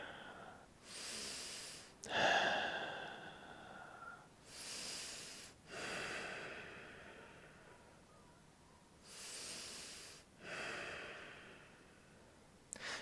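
Slow, deep yoga breathing held in happy baby pose, with long airy inhales and exhales coming in a steady rhythm of about five breaths, close and soft with no talking.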